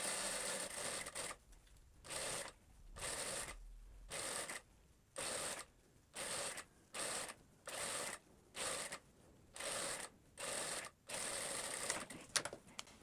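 Sewing machine stitching a topstitch seam on a skirt lining, running in about a dozen short regular bursts with brief pauses between, close and steady.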